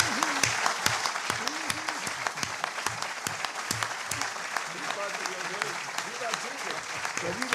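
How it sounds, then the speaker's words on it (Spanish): An audience applauds after a lecture by Antonio Escohotado in Santiago, with dense, sustained clapping throughout and voices cheering and calling out over it. "vamos a darle un gran aplauso a Antonio por habernos visitado"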